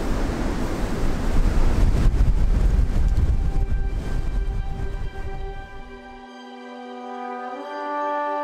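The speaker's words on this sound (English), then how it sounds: "So it's pretty windy up here" Strong wind buffets the microphone at a hilltop quarry with old brick barracks, a loud roaring gust for several seconds that drops away, leaving quieter steady tones.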